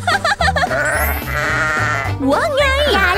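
A goat bleats in short wavering calls amid a children's cartoon, with speech and music layered over the animal cries throughout.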